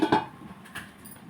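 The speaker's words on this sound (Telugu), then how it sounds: "మనం ఇప్పుడు మూత పెట్టుకుందాం" A couple of light metallic clinks as a lid is set onto a pot of curry with a little water, with a short clatter at the start and a softer knock a moment later.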